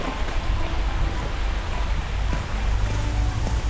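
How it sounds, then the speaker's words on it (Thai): A small waterfall in Kanchanaburi in the rainy season gives off a steady, close, broadband rush of falling water with no breaks and no talking. "นี่ไงน้ำตกเห็นยัง เห็นหรือยังว่านี่คือน้ำตก น้ำตกน้อย"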